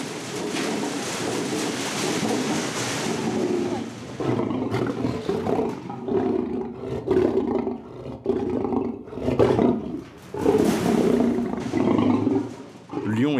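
Lions and a lioness roar in a zoo enclosure at feeding time. The deep, rumbling roars come in repeated swells, loud and close, and they carry on steadily through the whole stretch.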